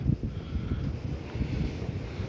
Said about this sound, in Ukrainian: ох ти, вітер дуже